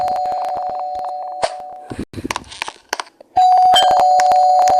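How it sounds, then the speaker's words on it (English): A doorbell rings with a sustained electronic tone, stops amid brief clatter and knocks, then sounds again loud and close. "just had someone ringing the doorbell"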